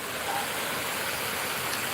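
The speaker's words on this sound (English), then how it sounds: "the water is running steadily here at the moment" Spring water in Watermouth, Manchester, Jamaica runs steadily, a constant broadband rushing wash with no pauses, close and even throughout.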